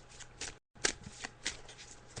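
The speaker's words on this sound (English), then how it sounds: "so I'm just shuffling the cards" A deck of tarot cards is shuffled for a psychic reading on an Irish radio show, giving soft repeated riffling bursts with a brief pause partway through, close and fairly quiet, with no talking over it.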